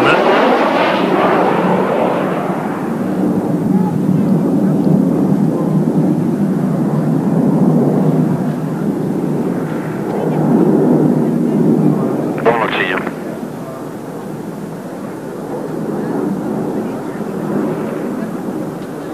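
Jet aerobatic display aircraft flying a slow roll at the 1987 Fairford airshow, a loud sustained engine roar that swells and fades over the whole stretch, with a commentator talking over it.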